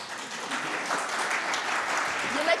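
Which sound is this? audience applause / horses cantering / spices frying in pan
audience applause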